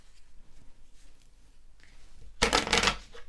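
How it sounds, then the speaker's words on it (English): Tarot cards shuffled by hand, a quiet stretch followed by a loud, close burst of riffling and flicking card noise lasting about a second. "Let's shuffle for 6 more cards."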